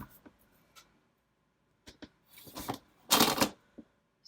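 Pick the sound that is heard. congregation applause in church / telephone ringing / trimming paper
trimming paper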